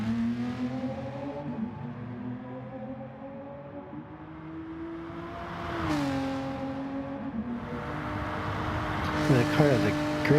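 A Renault Group 3 race car in Gran Turismo Sport, its engine droning in steady harmonic tones that rise and fall with shifts and acceleration, with a brief surge near the middle and tire squeal toward the end.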